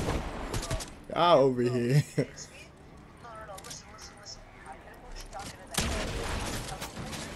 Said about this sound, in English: Oh, they shooting still.